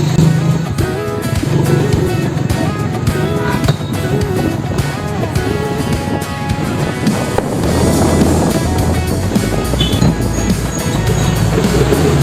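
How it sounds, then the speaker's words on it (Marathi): A motor vehicle rides along steadily, its engine and road noise filling the whole stretch loudly with wind buffeting the microphone and no pauses. "गाडी सुरू, चलो."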